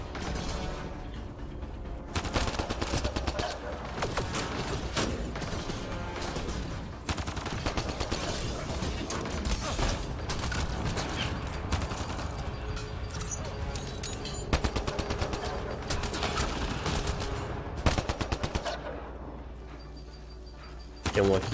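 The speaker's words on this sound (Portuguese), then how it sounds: "O recuo da arma é muito grande, tem que mirar bem pra baixo." Rapid gunfire from weapons in the sci-fi shooter Mass Effect Andromeda, dense bursts of shots and mechanical clatter running nearly continuously and loudly throughout, mixed with game effects and music.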